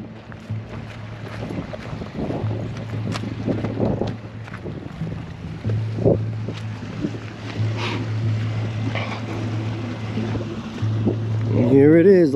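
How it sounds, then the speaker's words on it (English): A boat motors toward a lighthouse pier in Salem, a low engine drone rising gradually over steady wind buffeting the microphone, growing louder near the end. "I got a boat coming in."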